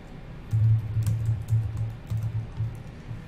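Typing a tree command on a computer keyboard to list the contents of a project folder, a steady run of muted, close keystrokes with brief gaps between them.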